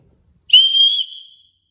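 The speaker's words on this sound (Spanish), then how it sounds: "un silbato, que vamos a probarlo." A small survival-kit whistle built into a bracelet, combined with a compass and fire starter, gives one sharp, shrill blast of about a second that fades away in a quiet setting.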